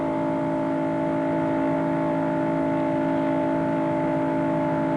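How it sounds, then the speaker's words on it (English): A race car engine runs flat out at Daytona during the 1993 Daytona 500, a steady, unbroken high-pitched drone heard from the car at wide-open throttle with no lift. "You could hear that motor just kept purring, wide open."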